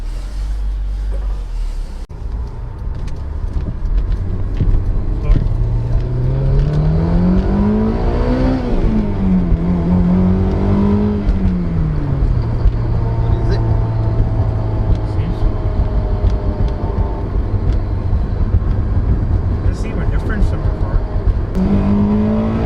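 A Honda S2000 with a rebuilt F20C engine drives on a test run, its engine note rising and falling steadily through revs with constant road and cabin noise underneath, continuous and close throughout.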